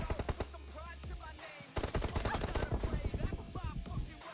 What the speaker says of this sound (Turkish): Tabanca attı bana.